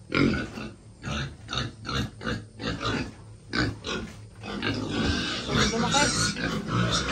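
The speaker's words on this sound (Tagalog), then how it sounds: "Mga baboy kahit kumain na basta may lumapit talagang iyak eh." Pigs on a dragon fruit farm squeal and grunt in repeated bursts, close and loud, crying out from hunger as someone approaches, with a person talking over them.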